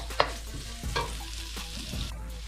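Fried rice with garlic stirred in a hot pan: a constant sizzle with a low hum underneath and several distinct spatula strokes scraping the pan at irregular intervals.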